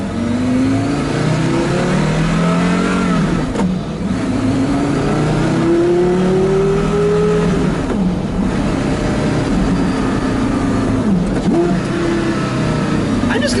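A Porsche Carrera GT engine revs hard while driving, its rising and falling harmonic pitch sweeping up and down through gear changes, loud and continuous close-up from inside the car.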